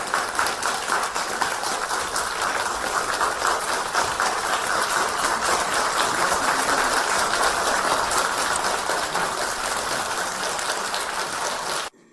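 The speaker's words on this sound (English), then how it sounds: "Give a warm round of applause to Khenpo Sodargye." An audience fills a hall with long, dense applause for Khenpo Sodargye at a charity event, a steady roar of many hands that stops abruptly at the end.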